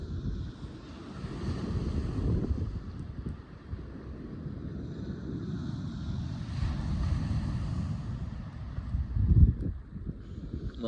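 Strong 40mph coastal wind buffets the microphone on a north Wales shore during bass fishing, a continuous loud low rumble with gusts swelling and easing, surf and water noise faintly beneath, no voices.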